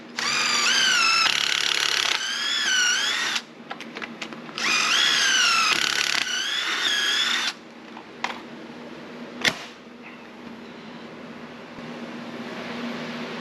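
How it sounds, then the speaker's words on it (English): A power drill driving through a pocket hole jig runs in two loud bursts of whirring drive with rising and falling pitch, separated by pauses, then a few sharp clicks and knocks of handling amid quiet room noise. "Your pocket holes, here we go."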